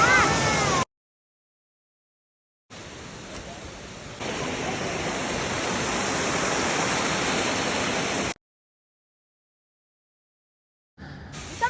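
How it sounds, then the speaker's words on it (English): Bomburuella waterfall in Sri Lanka gives a broad, steady rushing roar in two stretches, growing louder partway through, broken by sudden silent gaps and short cut-in bursts of sound. "The end is finally worth it when you discover the magical Bomburuella waterfall."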